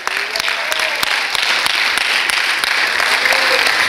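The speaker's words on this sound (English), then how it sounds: "Can somebody clap your hands unto the Lord here today?" Church congregation clapping hands together in a steady rhythmic beat, dense and close, with faint voices underneath.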